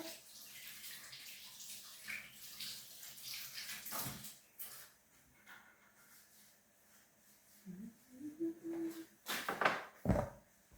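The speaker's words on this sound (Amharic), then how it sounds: "አሁን ደግሞ ለብ ባለ ውሃ እየጨመርን እንትን እናደርጋለን ማለት ነው።" Lukewarm water is poured into a tub to hand-wash jeans. A soft, steady splashing flow builds toward the end with louder bursts of pouring, and no voice is heard.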